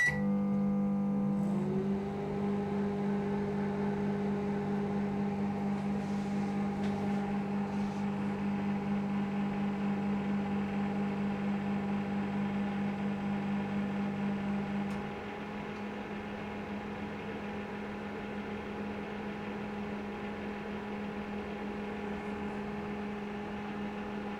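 A microwave oven heating a cup of water hums steadily as it runs, a low constant drone that drops slightly in level partway through.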